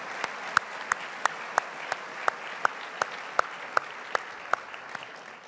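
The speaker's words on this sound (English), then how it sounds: "let's give all of our Category 2 finalists a round of applause" An audience at a business awards ceremony applauds the category finalists. Soft, continuous crowd clapping runs throughout, while one close pair of hands claps in a sharp, regular beat that stands out clearly.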